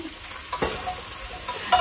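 Spineless yucca flowers stir-fried in a pan give a soft steady sizzle, broken by a few sharp scrapes and clatters of the spatula against the pan, close up and with no talking.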